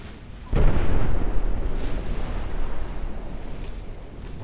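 A ship's flash fire explosion in the naval video game Ultimate Admiral Dreadnoughts: a sudden heavy boom half a second in, followed by a sustained roaring, crackling rumble that slowly fades but lingers to the end.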